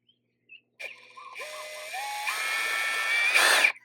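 A small power drill pre-drills a screw hole in a boat, whining up in pitch in stepped bursts as it speeds up and bites, close and alone, ending with a brief harsher grind.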